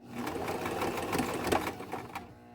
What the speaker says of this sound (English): then just start to sew so that those two bundles meet